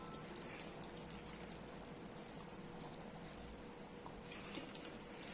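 Small fish dropped into a pot of boiling fish curry, a steady close bubbling and hissing simmer that holds evenly throughout, with no talking.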